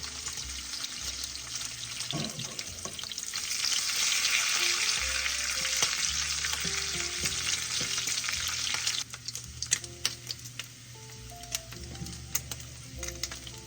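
Bacon frying in a pan on the stovetop hisses in a loud, continuous sizzle that later thins into scattered pops and crackles, with a few utensil clicks and no talking.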